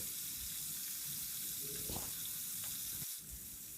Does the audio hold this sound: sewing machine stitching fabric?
no